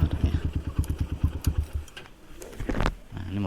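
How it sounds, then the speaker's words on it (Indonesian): A workshop owner's motorcycle at a small workshop, its engine putting out a steady run of rapid low pulses at close range, then fading into lighter clatter and a short rising burst of noise near the end. "Ini motor yang punya bengkel nih."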